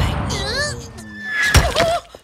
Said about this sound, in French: Oh, le canon, il est midi, c'est la pause déjeuner.